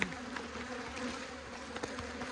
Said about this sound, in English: I've got these bees stirred up. They're stinging the camera.